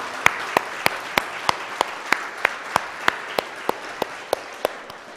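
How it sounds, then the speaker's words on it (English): A congregation at a church worship service gives a round of applause, with sparse, evenly spaced claps repeating steadily over a soft crowd background, fairly close and moderate in loudness. "So let's thank them with a round of applause"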